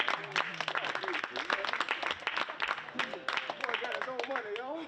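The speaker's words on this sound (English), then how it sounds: "clap your hands for Pastor and the teacher." A church congregation applauds for the pastor and a teacher: lively clapping spread through the room, mixed with cheering voices and chatter that ride over the claps for the whole stretch.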